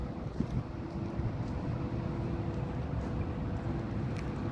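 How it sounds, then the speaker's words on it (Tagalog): Steady wind roars across the microphone, a continuous low rumble with gusty buffeting and no voices. "Mahangin man."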